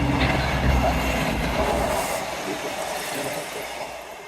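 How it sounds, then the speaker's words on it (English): A train rumbles past nearby with loud rolling wheels and rattling cars, the noise slowly fading as it moves away. "Always time to stop to film a train though."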